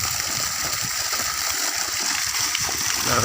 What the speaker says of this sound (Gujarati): એમ પહાડમથી ઝરણું પડે એમ પાણી પડે